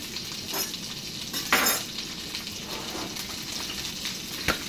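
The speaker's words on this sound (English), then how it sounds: "you're gonna hear the sizzle" Bacon grease sizzles steadily in a pan, a constant crackling hiss with a few sharp scrapes and clinks of a utensil.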